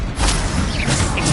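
A Confringo fire spell blast in Hogwarts Legacy, a brief loud burst with a whooshing rush and low thump, heard alone.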